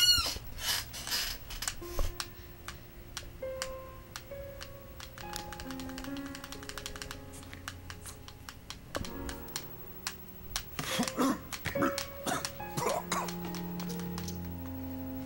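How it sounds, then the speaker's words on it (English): Steady clicking of keys on a computer keyboard, quick irregular taps with brief pauses, set against soft background music. "Maybe you guys can hear me typing."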